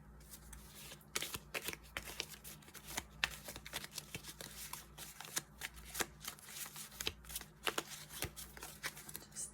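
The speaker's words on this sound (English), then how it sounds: "Another card draw." Cards from a CandyLand game deck being drawn and shuffled close up, a quick run of crisp flicking riffles and snaps that repeat throughout, soft and intimate with no talk.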